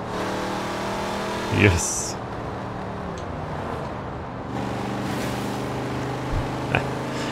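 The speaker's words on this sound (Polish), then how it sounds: "No moim zdaniem na ten standardowy silnik brzmi ciekawiej po prostu." Standard car engine in Forza Horizon 4, Chevrolet Impala meeting, a steady droning engine note with a couple of brief louder swells, while a voice talks over it.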